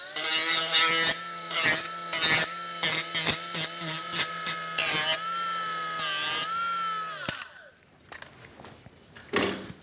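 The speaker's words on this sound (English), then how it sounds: "I've just got a little battery-powered right-angle die grinder" A battery-powered right-angle die grinder fitted with a 2-inch roll-lock Scotch-Brite disc whines loudly and steadily while scrubbing dross off plasma-cut sheet metal, broken by short stops, then winding down to quieter handling sounds.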